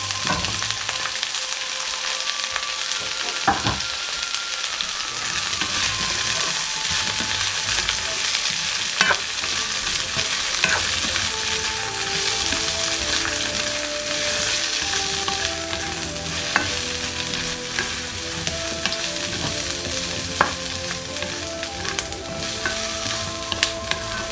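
Chicken hearts frying in sesame oil give a loud, steady sizzle that hisses on without a break, with occasional clinks and scraping of stirring, and no voices.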